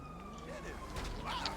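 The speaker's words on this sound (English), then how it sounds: "Okay, there's a police car." A police car siren wails briefly in GTA Online amid game sound effects and background noise, fairly quiet and short.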